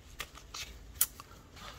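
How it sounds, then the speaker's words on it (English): Tarot cards being overhand shuffled by hand, with soft brief papery flicks and slaps repeating irregularly, close and quiet, with no one speaking. "and then I overhand shuffle"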